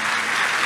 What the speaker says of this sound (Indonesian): Yang setuju boleh berikan tepuk tangan yang paling meriah buat Tuhan.